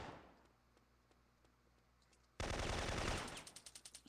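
Gunfire erupts in the PS1 game Syphon Filter, with faint sparse shots first, then a loud sudden automatic burst that tapers into a quick series of separate shots.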